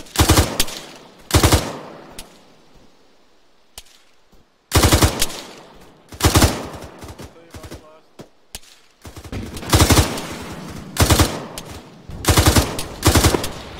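Arma 3 gunfire, loud close bursts of automatic weapon fire in repeated volleys with short gaps between them, punctuated by single sharp shots and echoing tails.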